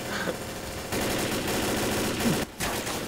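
Sustained automatic gunfire from the video game Left 4 Dead rattles on for about three seconds, dense and loud, with a brief break near the end.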